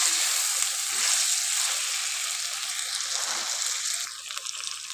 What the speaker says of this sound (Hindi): तकरीबन 3 से 4 मिनट हमने आलू को भी साफ फ्राई करना है